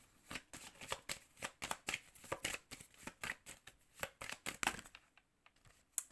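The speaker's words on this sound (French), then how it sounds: "Je prends encore une carte." Tarot cards being shuffled and drawn by hand, a close, quiet run of rapid crisp riffling flicks in steady bursts that taper off near the end, with no talking.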